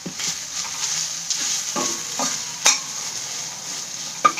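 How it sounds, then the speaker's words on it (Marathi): Turmeric being stirred into green tomato chutney frying in a pan, a steady close sizzle with scraping spoon strokes and a few sharper clicks against the pan, no voices. "आता थोडीशी हळद टाकली."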